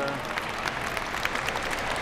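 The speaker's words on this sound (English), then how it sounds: "don't be afraid to clap for these dogs" Audience applause at a dog show in Houston, Texas: a steady patter of clapping from a crowd, moderately loud and continuous, with no voices standing out.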